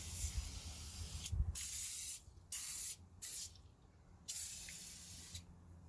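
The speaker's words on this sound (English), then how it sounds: "All right, I'll spray it." Several short bursts of Super Clean aerosol degreaser spray hiss, separated by pauses, close by with no talking.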